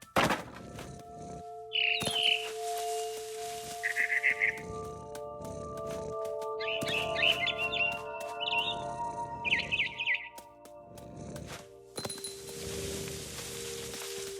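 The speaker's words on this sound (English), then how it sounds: "Then I heard chirping outside my window. It was a barn swallow going back to her nest." A barn swallow in the game What Remains of Edith Finch gives repeated short bursts of chirping and twittering, fairly close and clear over a quiet background with occasional soft knocks and clicks.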